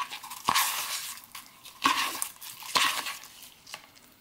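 Slime mixed by hand with pom-poms and confetti in a bowl: a few sharp wet slaps and squelches spaced about a second apart, close and fairly quiet, without talk.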